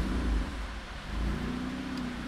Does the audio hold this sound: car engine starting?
yes